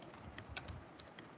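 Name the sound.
typing on a computer keyboard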